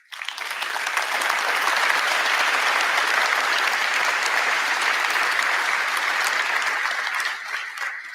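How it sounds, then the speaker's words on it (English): Conference audience applauding Kotlin grants program winners at KotlinConf Global 2024, a dense, sustained round of clapping from a large crowd that swells quickly and holds steady before tapering near the end. "I would like to ask you for a round of applause for winners"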